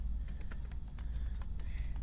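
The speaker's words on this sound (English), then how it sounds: "So that's what I'm typing in the footnote area." Fingers tap on a computer keyboard in quick, irregular bursts of light clicks, close but quiet over a low background hum, with no voices.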